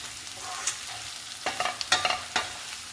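Okra (bendakaya) frying in a pan, a steady low sizzle broken by a cluster of quick spatula scrapes and stirs, close and moderately loud.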